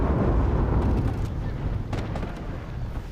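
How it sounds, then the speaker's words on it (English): A battleship magazine explosion in the naval combat game War Thunder Mobile, heard as a heavy, rumbling blast that fills the clip with dense low roar and crackle, slowly fading, with no speech over it. "that was a magazine explosion, okay. That ship got torn to shreds."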